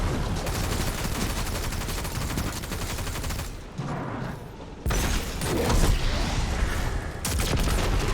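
Destiny 2 weapon fire, including Wither Horde shots, in the Excavation Site XII Lost Sector: dense, continuous rapid gunfire with mechanical clatter, briefly dropping out and then resuming loud and close.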